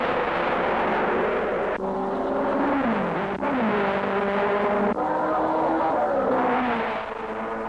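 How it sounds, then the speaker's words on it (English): Vintage Cooper racing car driven hard and drifting through a bend, a loud continuous engine roar with shifting harmonic pitch as revs rise and fall, close and steady throughout. "Just look at the tousing the tyres take as Jack Brabham drifts his Cooper through the bend."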